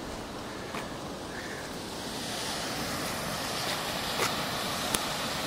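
Floodwater of a swollen river rushes under New Bridge at Copley, West Yorkshire, a steady broad roar of churning water with light wind buffeting the microphone and a couple of faint clicks, no voices.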